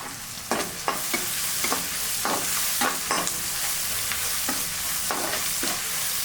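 Green chillies and rock salt fry in a pan with a steady near sizzle, broken by a series of sharp scraping stirs against the metal at an uneven rhythm.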